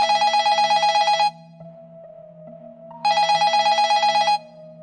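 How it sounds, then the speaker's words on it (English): A cell phone ringing with a bright, rapidly trilling electronic ring in two long bursts separated by a pause, loud and close, over a faint steady background hum. "my cell phone rang again"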